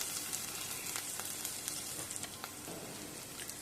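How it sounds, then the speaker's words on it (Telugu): Potato pieces and green peas frying in hot oil for a tomato pulao, a steady close hiss of sizzling with faint scattered crackles and a light stirring scrape near the end. "బంగాళదుంప గ్రీన్ పీస్ కూడా ఈ నూనెలో వేగితే"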